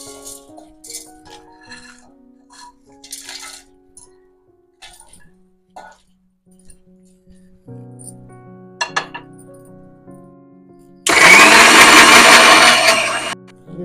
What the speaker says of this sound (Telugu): ఈ మసాలా సామాన్లన్నీ పేస్ట్ చేద్దామండి మిక్సీలో వేసుకొని.